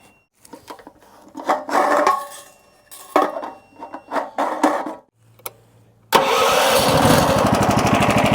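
A car engine cranks and fires up after several seconds of scraping and clattering handling noises, then settles into a loud, steady idle close by. No one speaks.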